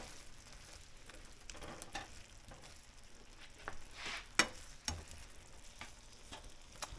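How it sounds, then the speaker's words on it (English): Shrimp simmering in Cajun's Choice seasoning give a faint, continuous bubbling sizzle with occasional soft stirring clicks and taps close by. "I'm gonna let this simmer for a little bit longer."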